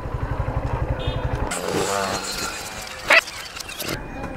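Motorcycle engine nosing into a building, a steady pulsing idle near at hand for about a second and a half, then rougher revving and shuffling with a short sharp clatter partway through.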